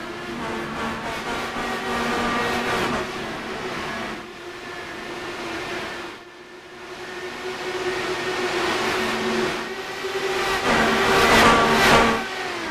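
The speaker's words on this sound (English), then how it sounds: "Cars build up speed and thunder their way down into turn 3 and 4." Dallara DW12 IndyCars accelerating away from the race start at Twin Ring Motegi, a loud sustained engine roar with rising pitch that dips briefly mid-way then swells again, heard at a distance without talk.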